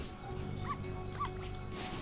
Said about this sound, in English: Ah, stupid dog.